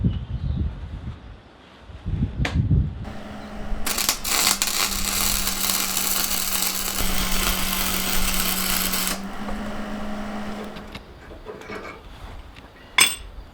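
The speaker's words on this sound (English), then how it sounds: "we're about to do some preliminary hold in place welds" A flux-core wire welder lays preliminary tack welds on the front section of a Series 1 Land Rover under restoration. A steady, crackling buzz runs for about five seconds, with metallic clanks before and after.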